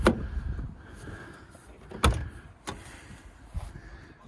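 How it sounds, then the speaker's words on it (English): Rear doors of a Peugeot Boxer camper van conversion are opened, giving a few sharp metallic latch clunks and thuds spaced across several seconds, close by with no talk. "open up the rear doors"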